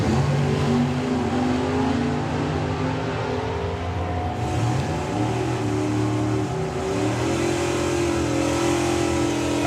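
Drag racing cars launching off the line at the Springspeed Nationals, big engines roaring at high revs with shifting pitch, loud and continuous, a second surge partway through as they pull down the strip.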